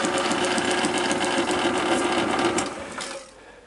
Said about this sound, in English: for the slowest speed, that's pretty quick